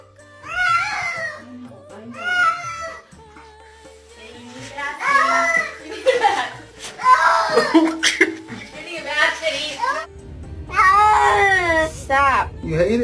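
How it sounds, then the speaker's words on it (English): A house cat named in a bath yowls and wails in drawn-out, wavering cries, repeated several times over running water. People talk and laugh over and between the cries. "That's the cat making that noise."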